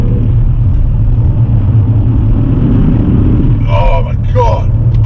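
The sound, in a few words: BMW M3 engine accelerating on winter tyres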